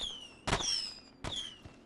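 Two sharp blasts about a second apart in the video game Tom and Jerry Chase, each a sudden explosive burst followed by a short ringing tail.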